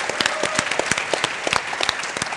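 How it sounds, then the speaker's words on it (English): Audience applause at a denim industry talk, a dense burst of many hands clapping close by for a couple of seconds, bright and steady with no voices standing out. "I think Karl-Heinz needs another big applause."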